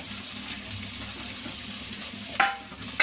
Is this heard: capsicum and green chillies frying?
yes